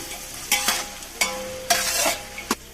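Tomato and carrot pieces are stirred in a pan, giving several close scraping, sizzling strokes at uneven intervals with no talk.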